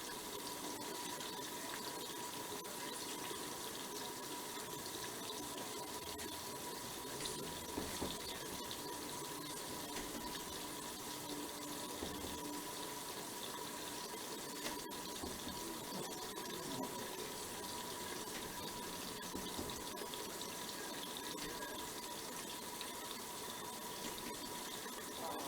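A beef mix fries in a covered pan, giving a steady, faint, hiss-like sizzle that holds evenly throughout with only small flickers and no voices.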